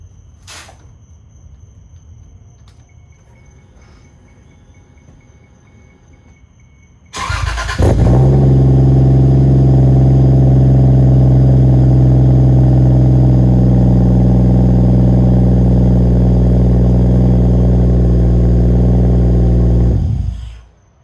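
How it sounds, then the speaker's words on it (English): Toyota Cressida fitted with a 1JZ engine cranks and fires after several seconds of quiet, then settles into a loud, steady idle that runs for about thirteen seconds before shutting off abruptly. "Give you guys a quick startup because I absolutely love the sound of this car"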